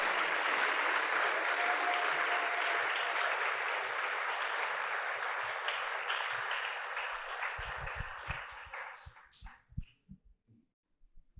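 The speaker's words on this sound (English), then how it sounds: "a healthy round of applause to all the volunteers on their Merit Award" Audience applause at a city merit award ceremony for volunteers, a dense, sustained roomful of clapping that thins out toward the end into a few scattered individual claps.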